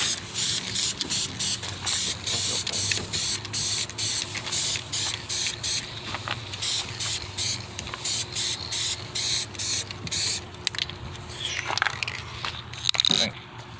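Spray gun laying clear coat onto a car panel during a peeling clear coat repair, a steady hissing spray broken into repeated short bursts and passes, close and fairly loud, with faint voices briefly in the background.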